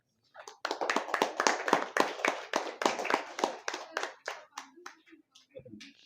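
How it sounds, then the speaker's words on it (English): Students clap at a school science presentation of a model hydro power plant, roughly twenty quick, distinct claps in a brisk rhythm. The claps thin out and stop, and a voice follows faintly. "Clap everyone."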